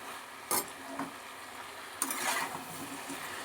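Potato and jackfruit cooking down in a pan before water is added: a soft, low sizzle with a few distinct scraping stirs of a spatula, quiet and close, with no voices.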